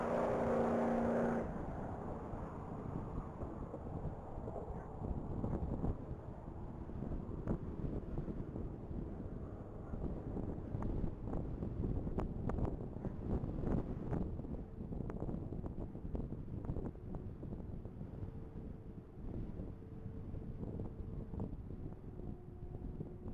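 A supercharged race car makes a top-speed mile run at a Texas Mile racing event. A steady, distant engine roar is heard under heavy wind buffeting for the whole stretch.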